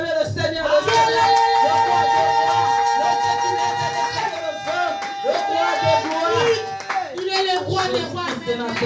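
Church congregation at a Sunday worship service applauding and cheering, sustained clapping over a bright, loud backdrop of music and voices, swelling and dipping through the whole stretch.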